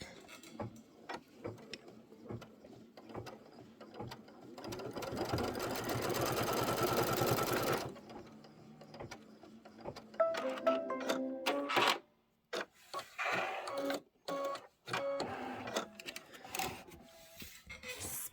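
A sewing machine runs in a fast, steady mechanical whir for several seconds, followed by shorter stop-start bursts of stitching and handling noises.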